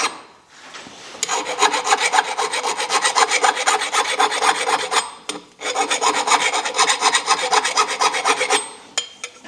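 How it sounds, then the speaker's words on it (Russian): A hand file rasps over the outer edge of a metal part to chamfer it, giving steady rapid back-and-forth strokes, loud and close, with a brief pause midway and no voices. "Наружную фасочку. Напильником, внутреннюю шабером."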